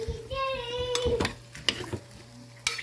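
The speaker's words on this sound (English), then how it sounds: "I thought I would just give it a stir here" Lard rendering in a crock pot gets stirred, giving a low bubbling sizzle with a few sharp utensil knocks and scrapes against the pot, close and fairly quiet.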